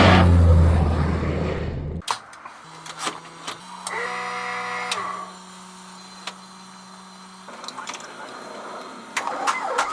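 A refurbished 1977 Cessna 182Q light airplane engine runs with a loud broadband roar at first, then settles into a steadier, quieter droning hum with faint ticking and clicks.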